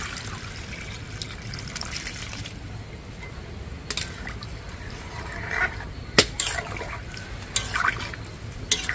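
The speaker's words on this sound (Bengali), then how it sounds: "পরিমাণ মতো জল দিয়ে দিচ্ছি" Water trickles and pours into a pot of Bengali vegetarian aloo dum, a steady close liquid wash with a few sharper splashes and clinks toward the end, no voices.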